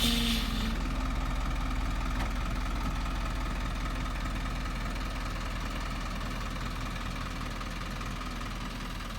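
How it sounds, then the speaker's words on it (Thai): A Hino 500 Dominator FC9J truck with a 210-horsepower engine idles steadily and evenly at close range, giving a smooth, constant rumble with no talk. "เสียงเครื่องก็นิ่มนะครับ"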